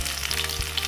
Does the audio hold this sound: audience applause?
no